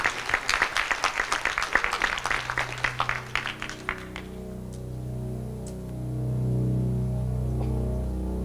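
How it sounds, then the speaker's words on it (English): Audience at a business competition event applauds with dense clapping for about four seconds, then the clapping fades into a low room hum with faint tones. "Ladies and gentlemen, a round of applause."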